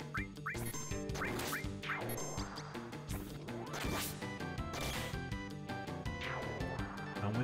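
Chocobo calls from the Final Fantasy VII video game, short squawking quacks repeating over a busy bed of game music and effects, loud and steady throughout.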